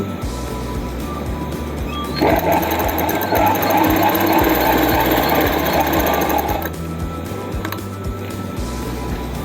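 A sewing machine stitches the folded hem of plazo pants in one continuous loud run of several seconds, with quieter mechanical hum before and after.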